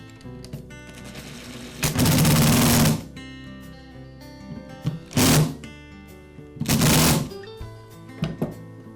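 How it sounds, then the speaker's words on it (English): A power screwdriver drives screws into the plastic motor housing of a Porter Cable router, three loud whirring bursts of two to three seconds each plus a short final burst, close by, separated by quiet handling noises. "And I'll secure the upper and lower halves of the motor housing with the screws."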